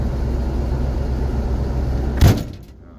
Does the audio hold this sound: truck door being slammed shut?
yes